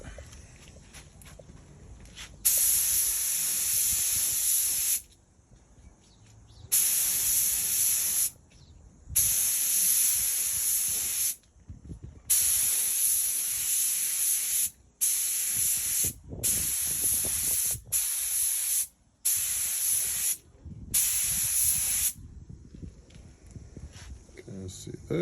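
Spray can laying a third coat of paint on a model car bumper: repeated loud, close hissing bursts of a few seconds each, broken by short pauses, with faint handling sounds between.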